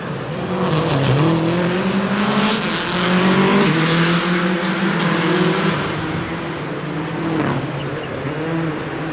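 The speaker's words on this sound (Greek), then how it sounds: "Πολύ όμορφος ήχος από τα δύο αυτοκίνητα." Two WRC rally cars race side by side on a special stage inside Athens Olympic Stadium, engines revving up and down through gear changes with tire squeal, loud and close throughout against a crowd-filled arena backdrop.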